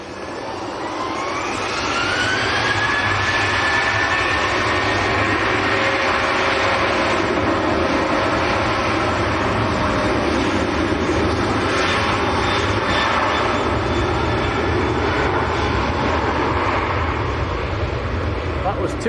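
A TUI jet airliner arriving at Manchester Airport in windy weather roars loudly and steadily, with a rising engine whine early on and wind buffeting throughout.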